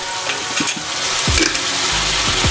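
Three eggs hit a hot pan for Turkish menemen and crackle into a loud, continuous sizzle, with a few sharp scraping knocks from a utensil stirring against the pan.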